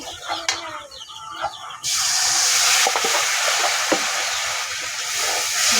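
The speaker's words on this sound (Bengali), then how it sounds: "পানি দিয়ে এটারে মশলাটারে আরও ভালোভাবে কষাবো আর একটু পানি লাগবে এখানে মশলাটা কষতেছে" A spice paste with turmeric sizzles loudly in a pan once water is added, a sudden burst settling into a continuous hiss, with a few clatters beforehand.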